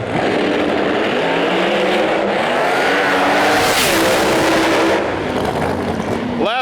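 Loud, continuous roar of drag cars launching side by side, a Ford Mustang and a Camaro at the Snowbird Outlaw Nationals, with engine pitch sweeping up briefly near the middle of the run.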